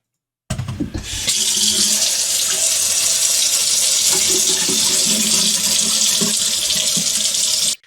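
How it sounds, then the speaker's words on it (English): Water runs steadily from a tap after a brief start, a loud, constant hiss and splash into a basin that carries on until it is cut off abruptly. "The tap is still running."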